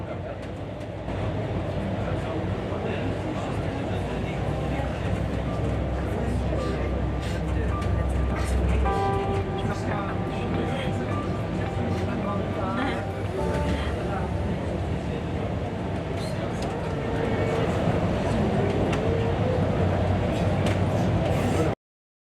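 Mont Blanc Tramway rack railway train running on its rack line, a continuous rumbling and rattling ride heard from on board, with scattered clanks and a voice talking over it.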